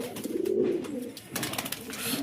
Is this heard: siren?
no